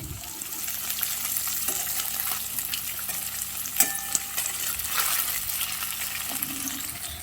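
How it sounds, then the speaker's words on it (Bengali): Constant crackling hiss of paneer frying in oil, fairly loud and unbroken, with a few faint clicks of a utensil scattered through. "তো পনিরগুলো আমি ভেজে নিচ্ছি।"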